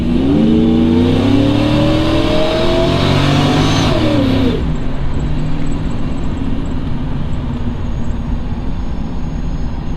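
A loud supercharged Chevrolet Trailblazer engine revs hard under full throttle, pitch climbing steadily for about four seconds before the throttle lifts and it settles into a steady cruising drone.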